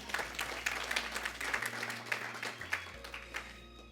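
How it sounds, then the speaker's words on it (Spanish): A church congregation applauds during a Spanish-language sermon, producing a steady wash of clapping that swells and fades over a few seconds, with a low hum underneath and no speech. "Den un aplauso a Jesús."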